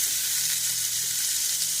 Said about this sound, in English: Still gonna be sizzling from that grease.